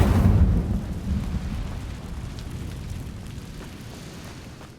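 The Incendio fire spell in Hogwarts Legacy, a loud, rumbling whoosh of flame that starts strong and slowly fades into a sustained roar, with no voices over it.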